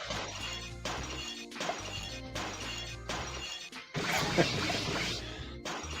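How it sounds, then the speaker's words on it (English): Ice pyramids shattering in the 3DO puzzle game Icebreaker, with repeated loud crashing breaks layered over a steady low game music loop, with a denser burst of shattering toward the end. "I guess it was just the shattering of the pyramids"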